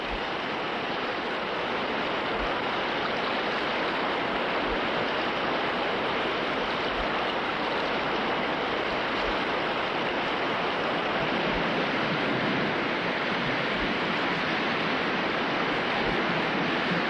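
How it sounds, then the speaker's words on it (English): Water rushes over a river waterfall, a broad, steady roar of churning flow that stays loud and unbroken throughout with no voices. "There's lots of water here, so this is an easy falls to pass."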